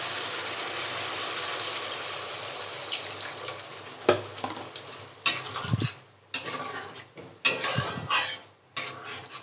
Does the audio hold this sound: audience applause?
no